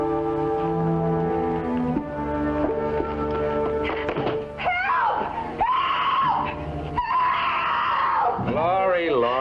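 A woman screams repeatedly, high and strained wails rising and falling, loud and close, with tonal background music underneath.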